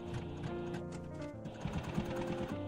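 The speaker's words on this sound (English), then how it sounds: "So you can walk your hand wheel on the thicker parts." A sewing machine stitches through thick layers of a canvas Dopp kit bag, running in a steady close rhythm with its motor labouring a bit on the heavier sections.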